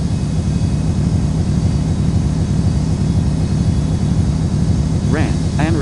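Steady airliner engine roar and broadband rush from a jet landing on runway 1 at Ronald Reagan National in the SkyHeart Tower game, constant and loud throughout, with a brief tonal chirp near the end.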